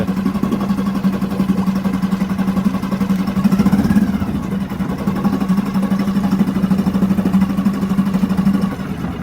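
Outboard boat engine, 4-stroke, running in a test tank: a loud, steady mid-pitched idle with a rapid pulsing chug and a slight rise midway, continuous throughout with no talk.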